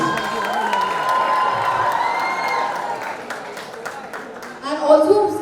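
A big crowd at a college fest cheers, shouts and whoops loudly without letup, with applause and a swell of excited screams toward the end.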